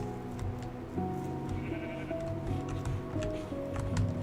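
Sheep bleat several times in the video game Minecraft, short wavering calls rising over a steady layer of in-game background sound.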